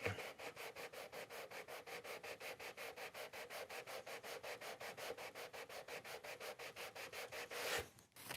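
Steady rhythmic strokes of 220-grit sandpaper rubbing by hand across a wooden guitar fretboard, fast and even back-and-forth scratching, close by, ending with a brief shuffle.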